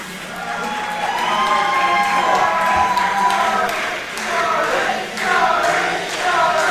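An indoor crowd cheers and hollers for a champion fighter called Starboy Charlie. The roar swells and dips in waves, loud and close, with scattered claps and thumps underneath.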